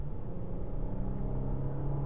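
A Genesis car with an 8-speed transmission accelerates, its engine a low, steady droning hum heard from inside the cabin, without clear shift breaks and with no talk.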